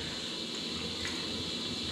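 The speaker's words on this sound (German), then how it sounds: "Deswegen habe ich hier ja auch meine Gießkannen mit dem Wasser. Das werde ich jetzt hier erstmal vollfüllen." Water pours steadily into watering cans being filled for a steam wax melter, a continuous close splashing rush with no breaks.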